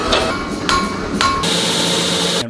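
Hammer blows on welded, layered steel bars while forging a Damascus knife: three heavy metallic strikes ring out, then a steady ringing hum follows, ending abruptly.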